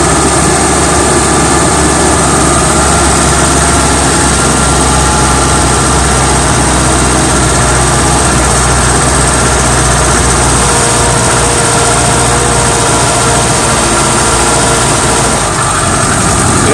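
A Suzuki 4WD's engine drones loudly and continuously with a dense low rumble and a high whine, holding at raised revs throughout.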